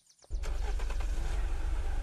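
A car engine in the survival video game Unturned starts after a brief quiet moment, then runs steadily at a loud, low drone with a few rising and falling pitch changes as the vehicle drives.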